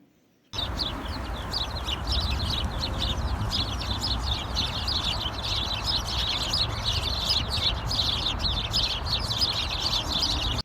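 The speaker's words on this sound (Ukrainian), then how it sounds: "Гробчики це маленькі сіренькі пташки, які дуже гарно вміють співати" Continuous high, rapid wren twittering and trilling over a steady low background rumble, without pause throughout.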